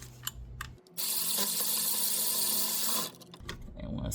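A short 12mm socket on an extension turning out an AC compressor bolt on a Mitsubishi Outlander, a close burst of ratcheting and whirring lasting about two seconds, framed by faint clicks and handling noise.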